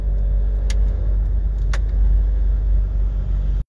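A heavy truck loaded with about 20 tons of metal rolls past on a road, making a loud, steady low engine rumble that holds throughout and then cuts off abruptly, with no voices.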